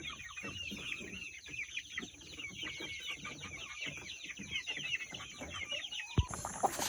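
Native chickens cluck close by at a backyard coop in the early morning, a busy run of soft overlapping clucks and calls with no talk.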